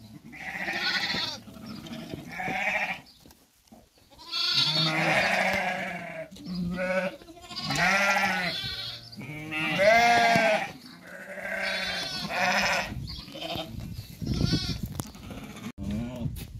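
Sheep and goats for sale at a livestock lot bleat repeatedly and loudly close by, overlapping calls of varied pitch in an irregular rhythm with brief quiet gaps.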